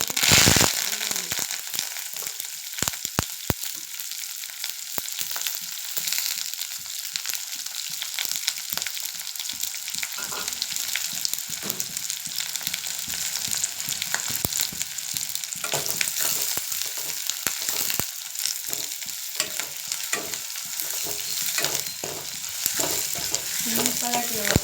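Mustard seeds, curry leaves and onion in a couple of tablespoons of hot oil make a steady, loud sizzle with scattered crackling pops throughout.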